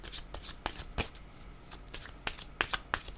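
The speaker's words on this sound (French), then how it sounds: "OK, je vais demander une autre carte ici." A deck of cards shuffled by hand before drawing another card, close, crisp flicking and riffling clicks in irregular bursts, with a quieter pause midway and no speech.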